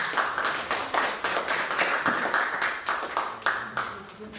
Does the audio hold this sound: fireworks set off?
no